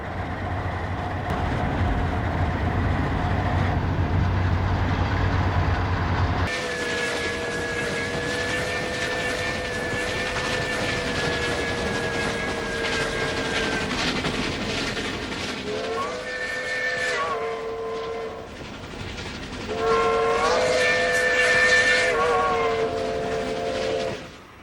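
Santa Fe steam locomotive 3759 hauling a special train through countryside in 1955, a loud sustained rumble of the running train with a long steady whistle blast that later wavers and returns, heard alone.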